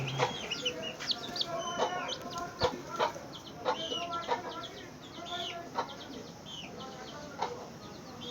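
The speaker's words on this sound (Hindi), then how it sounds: "ये बच्चे चूजे है," Desi chicks and hens on a rooftop poultry farm cluck and peep in overlapping bursts, close and lively, with a faint voice in the background.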